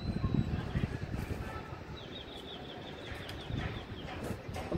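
Pigeons flap their wings in a rooftop loft setting, a soft fluttering rustle of wingbeats in bursts amid outdoor background noise, with faint chirps in the distance.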